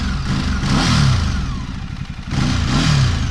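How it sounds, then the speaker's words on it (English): A cold 2012 Ducati Multistrada 1200S Pikes Peak edition motorcycle engine revved up twice from idle, each rev a loud, close rising snarl with rattly mechanical clatter between them. "We'll give her a little rev."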